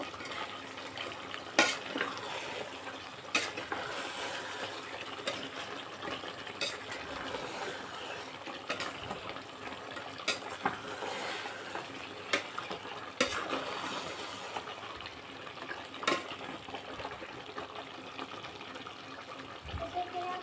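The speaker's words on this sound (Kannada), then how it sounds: "ಎಣ್ಣೆ ಬಿಟ್ಕೊಂಡ ಬಿಟ್ಕೊಂಡಿದೆ ನೋಡಿ ಈಗ ಕುದಿತಾ ಇದೆ" Oil boiling and bubbling in a pot of Muslim-style chicken biryani, a quiet continuous simmering hiss broken by periodic sharp clinks and scrapes of stirring.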